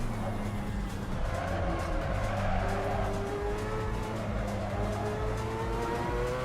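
Mazda race car in a driving video game slides through corners, its tires squealing over a steady engine drone with rising tonal whines, continuous and loud throughout, with faint talk underneath.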